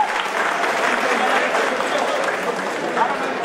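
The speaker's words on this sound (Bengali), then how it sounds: "একটা জোরে হাততালি" An audience claps loudly and continuously at a college freshers' welcome event after a lamp-lighting ceremony, a dense, even wash of applause that fills the whole moment.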